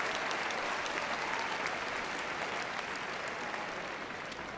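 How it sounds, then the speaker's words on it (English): Steady, dense applause from a large indoor crowd at the Crufts 2013 gundog display, continuous and even for the whole stretch with no voices rising above it. "give them a massive, massive round of applause"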